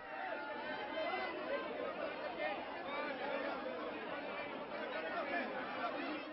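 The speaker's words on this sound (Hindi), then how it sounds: "इस बीच स्टेशन पर मीडिया से लेकर कौतूहलवश देखने वालों की भी भीड़ लगी।" A dense crowd of media people and curious onlookers murmurs and chatters at a railway station, a continuous babble of many overlapping voices with no single speaker standing out.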